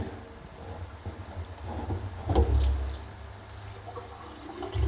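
Water runs and splashes steadily into a multifunctional smart kitchen sink basin, with a low rushing hum that swells briefly in the middle before settling.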